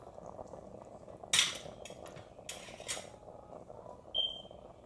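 A metal spoon scrapes and clinks against a pot of Ghanaian corn porridge a few times while stirring, with quiet gaps between the sharp knocks.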